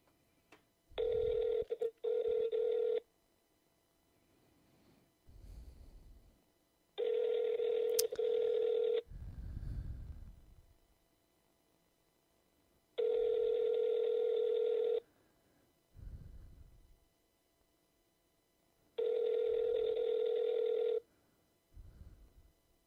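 Steady telephone tones sound in four separate bursts of about two seconds each during phone banking, spaced by quiet gaps with faint low thumps between them.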